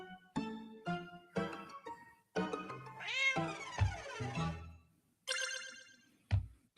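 Cartoon cats in the puzzle game Boop meow repeatedly, a run of short harmonic mews followed by a longer rising-and-falling wail, with a bright chime-like jingle near the end and low thumps under it.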